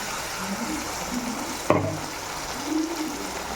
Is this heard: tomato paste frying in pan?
yes